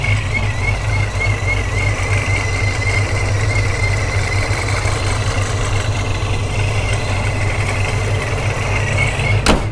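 The supercharged Hemi V8 of a 2009 Dodge Challenger SRT8 idles loud and close with a deep, steady rumble, and a high ProCharger D1SC supercharger whine rides over the top.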